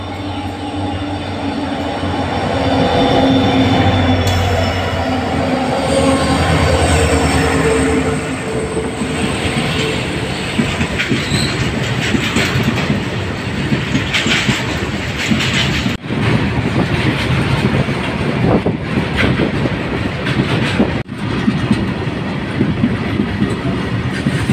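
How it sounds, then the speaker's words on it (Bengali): A goods train rolls through a two-platform station while a DMU stands waiting, a long continuous rumble of wagons with rhythmic wheel clatter and occasional squeals, loud and close throughout. "একটি মাল ট্রেন ক্রস করে, সেটা তোমাদেরকে দেখাচ্ছি।"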